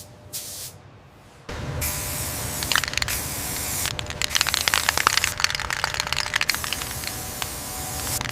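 A small paint spray gun touches up an armored recovery vehicle in a factory, giving a strong steady hiss that starts abruptly after a short pause and runs continuously, broken by faint clicks and knocks.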